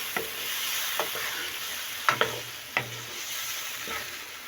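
Boiled white chickpeas fry in a pan for Kabuli pulao, giving a steady close sizzle broken by a few sharp clicks of a spoon stirring against the pan. Nobody speaks.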